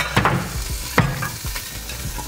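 Salmon cooking in a skillet, a soft steady sizzle with a few scraping clatters of a utensil against the pan, close, with no voices.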